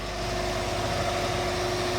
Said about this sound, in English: I'm letting the engine overheat a little bit so it melts all the ice.